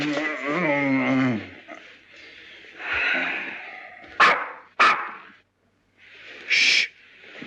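A man imitates a dog, giving a few short, loud barking yelps after some voiced, growly sounds, with quiet gaps in between, in a 1941 comedy film.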